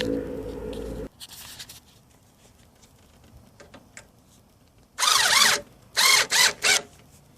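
Screws being driven into a headlight motor on a 1997–2004 C4 Corvette, heard as a few short, loud whirring bursts of a driver after quiet handling noises, with no talk.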